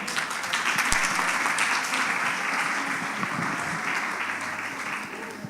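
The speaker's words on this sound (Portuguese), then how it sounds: "Dá um aplauso para o Senhor." A church congregation applauds steadily for about five seconds, the dense clapping of a large crowd filling the room evenly from start to finish.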